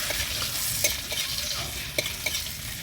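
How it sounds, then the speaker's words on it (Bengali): Ginger and cumin seeds fry in a pan with a steady, close sizzle, broken by a few soft stirring scrapes and light taps, no voices. "এবার আদা দিয়ে সুন্দরভাবে ভাজা করে নিই।"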